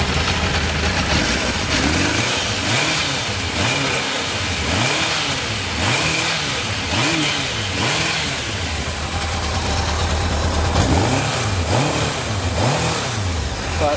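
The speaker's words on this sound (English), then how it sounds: "We'll go ahead and crank this bike up for you. It runs real nice." A carbureted, already warm 2006 Kawasaki Concours 1000 motorcycle engine idles steadily and loud, its speed rising and falling in repeated blips throughout, with no talk.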